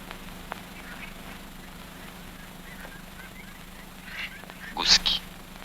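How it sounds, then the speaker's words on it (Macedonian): Geese honking at a distance, faint at first and then a louder burst of calls near the end over a low steady hum. "Гуски."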